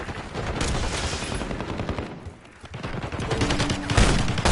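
Archangel scorestreak barrage in a Call of Duty Black Ops Hardpoint match, a dense continuous rattle of rapid gunfire and blasts, with a brief dip in the middle before the volley surges back louder.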